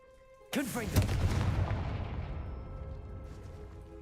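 The Confringo fire spell is cast in the video game Hogwarts Legacy, bursting out as a sudden loud blast with a ringing, booming tail that slowly fades, heard over faint background game music.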